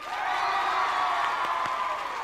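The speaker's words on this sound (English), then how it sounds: "Give them a round of applause, come on." A game show studio audience claps and cheers in a steady, dense wash of applause with a few whoops, continuous and fairly loud throughout.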